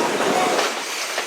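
Excursion train of the GSMR railroad rolling along the rails outdoors, a steady broadband rumble with faint rhythmic clatter from the wheels, fairly close and continuous, with a voice murmuring underneath.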